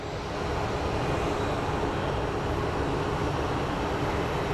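A Boeing 737 on its takeoff roll at Phoenix Sky Harbor International Airport gives off a steady broadband jet engine roar. It swells in the first half second, then holds loud and even, heard from a distance with no voices.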